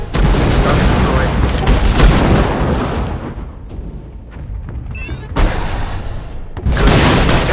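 Heavy gunfire and explosions in the Shadow Strike drone combat game, a dense roaring barrage that briefly thins to scattered bursts and sweeping electronic tones before the booming fire returns, with game voice callouts mixed in.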